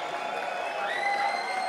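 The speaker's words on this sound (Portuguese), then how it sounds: "Uma salva de palmas para esses alunos maravilhosos que estão aí." An audience at a forró festival claps and cheers for accordion students, a steady wash of applause mixed with sustained accordion-like tones.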